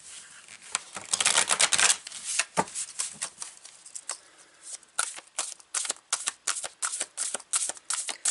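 A deck of Sufi tarot cards being shuffled by hand, with close, crisp riffling bursts and flicking cards in quick, repeated runs, and no talk.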